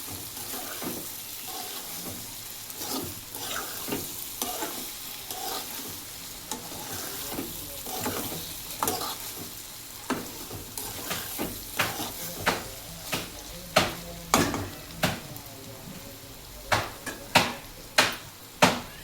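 Ivy gourd pieces fry in a pan for an egg fry, with an even sizzle under a rising run of sharp spatula scrapes that grow quicker and louder toward the end.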